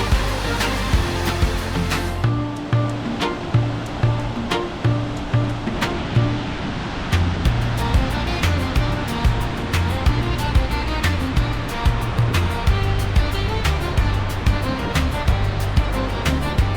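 Waterfall at Stuðlagil Canyon or Rjúkandafoss in Iceland roars as a steady, loud broadband rush throughout, with no speech over it.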